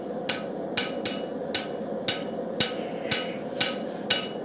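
Steady, close blows from a small common hand hammer land on a utility knife blade being forged, about nine sharp metallic strikes with a light ring, evenly paced and heard alone.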